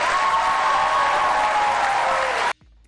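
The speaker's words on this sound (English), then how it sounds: "Now you can applaud" Audience applause at a Wisconsin Senate debate between Republican incumbent Ron Johnson and his Democratic opponent: a dense, steady wash of clapping that cuts off abruptly near the end.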